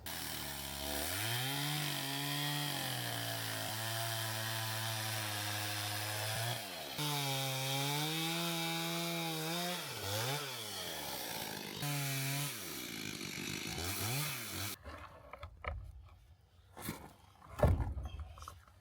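A chainsaw cuts through wooden beams for an off-grid cabin, running loud and steady with rising and falling revving pitch for about fifteen seconds before shutting off into quiet handling noises.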